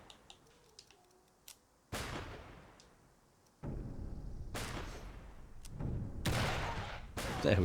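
Shotgun suppressing fire in the video game Empire of Sin: a few sharp pops, then heavy booming blasts and sustained rumbling bursts, loud and dense, with no voices heard.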